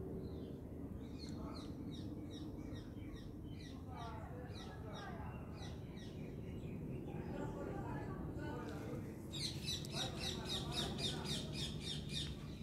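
Small birds chirp outdoors in quick, repeated high bursts that come in clusters and grow brighter toward the end, with people talking underneath.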